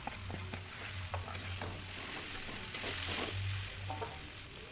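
Sliced spring onions sautéing in spices in a wok for Indonesian nasi kuning: a steady, fairly quiet sizzle and crackle with occasional scrapes and stirs of the spatula.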